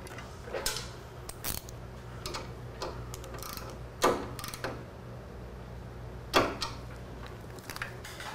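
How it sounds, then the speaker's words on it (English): A 10 mm bolt is tightened on the frame of a 2011 Harley Davidson Street Glide, a run of quiet ratcheting ticks and several sharper metallic clicks and knocks close up against a low background hum, with no speech. "go ahead and secure this 10 millimeter bolt"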